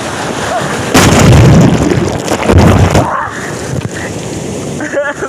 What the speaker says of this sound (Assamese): এনেকুৱা ঢৌ দিছে না গাইজ এনেকুৱা স্পীডত আহিছে ঢৌ